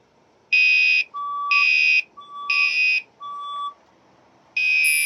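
A building fire alarm sounds during a test, repeating a loud electronic horn tone in regular blasts of about half a second, each followed by a lower beep, with no voices.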